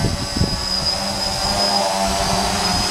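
A custom hexacopter drone's motors running just above half throttle, a steady, close, high-pitched electric whine with a sustained tonal hum and a little low thumping at the start.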